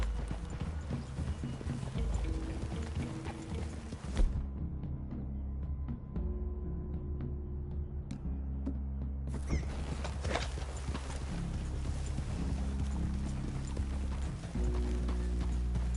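Horse hooves in Red Dead Redemption 2 clip-clop in a steady walking rhythm throughout, fairly close, near a clearing, with a quieter muffled stretch in the middle and faint background ambience.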